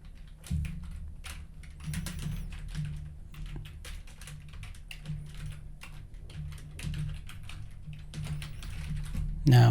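Rapid, uneven clicking of a computer keyboard as code is typed, close and fairly quiet, with bursts of keystrokes and short pauses and a brief louder clack at the end.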